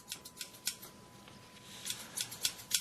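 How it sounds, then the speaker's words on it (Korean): Scissors snip crisply during a haircut in a barbershop, a string of sharp metallic clicks in uneven pairs and bursts, close and fairly quiet over a near-silent background. "찰칵찰칵 가위 소리를 내기 시작했다"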